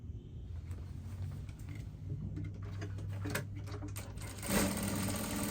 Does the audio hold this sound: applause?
no